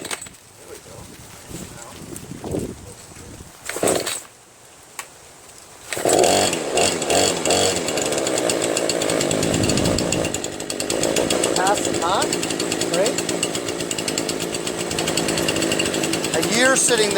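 A Remington RM4620 20-inch chainsaw is cold started: a few pulls and sputters, a short quiet pause, then the engine catches and runs loud and steady, revving close by for the rest of the clip.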